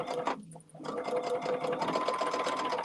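A sewing machine runs steadily as it stitches binding across a thick seam, with a brief dip in its whir near the start before the motor hums on continuously and up close.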